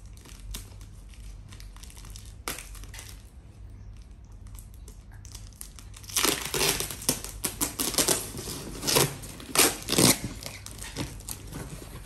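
Acrylic paint pens being unwrapped from their packaging: crinkling plastic and tearing sounds, quiet at first, then louder and busier bursts of crackling close to the microphone in the second half.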